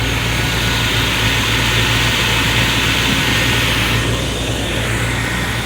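A truck engine idles, a steady, loud, close drone with an even low hum and broadband hiss, unbroken and without voices.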